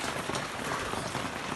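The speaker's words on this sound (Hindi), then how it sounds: "अभी अचानक से बारिश हुई है और इतनी तेज़ हो गई है" A sudden, very heavy downpour pours down as a dense, loud, unbroken hiss of rain hitting surfaces close by, steady throughout the short stretch with no talking.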